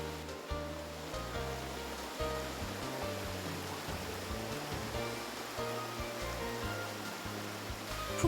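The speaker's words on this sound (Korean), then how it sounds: "한신 계곡에서 들리는 물소리는 마치 꽹과리 소리를 듣는 것처럼 유독 크고 요란하다." Loud, continuous rushing of plentiful water crashing over rocks in the Hansin Valley stream on Jirisan in summer, a dense steady roar close by with no pauses.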